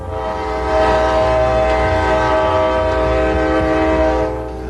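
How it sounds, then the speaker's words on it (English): A passing train's horn blares in one long, loud, sustained chord over a low rail rumble, swelling in and fading slightly at the end. "Michael Dukakis hopped a train through middle America today"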